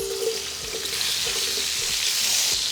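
Halved potatoes, cut about a quarter inch thick, sizzling in a pan just used for browning ribs, a soft, steady frying hiss heard close with no talking.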